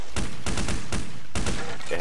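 Gunfire in the video game Counter-Strike: Condition Zero comes as loud, rapid automatic bursts, about four quick volleys close together.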